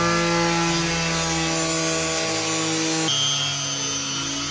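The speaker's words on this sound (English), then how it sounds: "So we went with the drill now," A power drill bores a hole through the metal bonnet of a Honda Civic, producing a loud, continuous grinding whine whose pitch shifts partway through.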